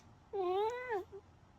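A cat gives one clear, close meow that rises and then falls, followed by a short faint chirp, against a quiet room.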